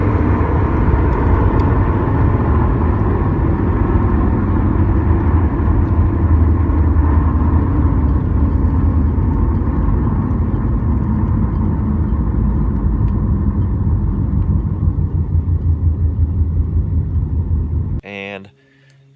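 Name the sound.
car driving on highway with warped brake rotor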